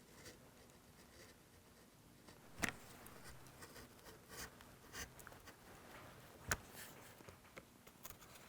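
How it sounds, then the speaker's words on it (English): A fresh utility blade scores and slices through homemade gasket material for a Ridgid 15 gauge finish nailer, giving quiet scratchy strokes broken by a few sharper clicks and snaps. "very carefully with a brand new blade go along and cut the inside out"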